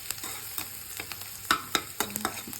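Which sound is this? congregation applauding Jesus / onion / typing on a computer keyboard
onion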